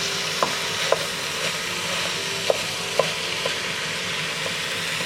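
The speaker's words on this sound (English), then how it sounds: "Now I'll take my ground beef and I'll place that in my pan." Ground beef, a full pound of it, sizzles steadily in a pan, a constant soft hiss broken by a few sharp clicks and taps of a spatula working the meat, with no one talking.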